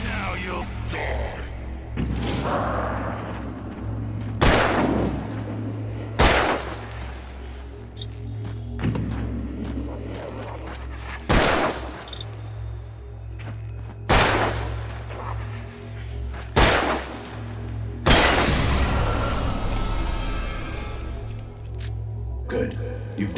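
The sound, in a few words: gunshots from the video game Alan Wake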